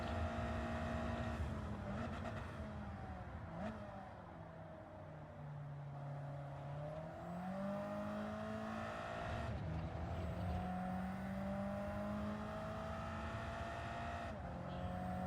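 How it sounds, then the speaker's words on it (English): A Corvette race car in Gran Turismo 7 drones in with a loud, steady engine note that rises and shifts pitch as it closes in, mixed with other racing engines. "Oh, here comes the Corvette."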